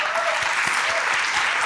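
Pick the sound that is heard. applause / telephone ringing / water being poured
applause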